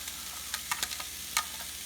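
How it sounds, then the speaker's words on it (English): Food sizzles in a preheated skillet on medium-high heat, a faint steady frying hiss broken by several sharp pops and crackles scattered throughout. "Oh yeah, hear that sizzle?"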